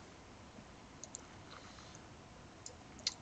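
A computer mouse double-clicked on a joint box in pipe rack design software: faint, quick paired clicks near the end, over a quiet room hiss with no voices.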